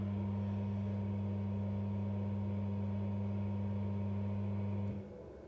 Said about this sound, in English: that's the sound of the pump going.